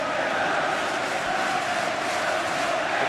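A packed football stadium crowd at the England v Germany Euro 96 semi-final roars continuously, a dense, loud wall of cheering and chanting that stays level throughout.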